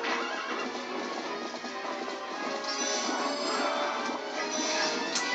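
Horse neighing and galloping hooves from the video game The Legend of Zelda: Twilight Princess, a loud, steady stream of whinnies and clip-clop with game sounds layered over it for several seconds, no talking.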